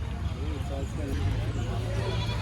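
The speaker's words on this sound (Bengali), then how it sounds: "দর্শক এই একটা ছাগল দেখেন, চমৎকার ছাগল" Goats bleating at a crowded pre-Eid livestock market in rain, with dense crowd chatter and voices over a constant low rumble; the animal calls are mixed into the busy background.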